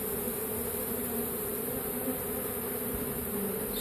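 A honeybee swarm at a hive makes a dense, steady buzzing that stays close and even throughout, with no talk.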